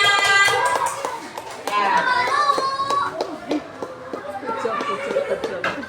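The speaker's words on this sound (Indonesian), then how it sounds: "Tepuk tangan." Children in a classroom clap for student groups, a loose rhythmic patter of hands mixed with kids' chatter and an adult voice speaking over it.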